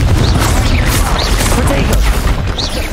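Confringo fire spell exploding in Hogwarts Legacy on PC, a dense continuous roar of booming blasts and crackling magic filling the whole stretch, loud and close with busy combat noise throughout.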